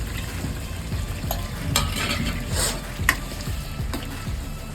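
Boiled bitter gourd tipped into cooked tomato puree in a pan for a Gujarati stuffed vegetable curry, giving a steady sizzle with soft stirring scrapes and a few light clinks of a spoon.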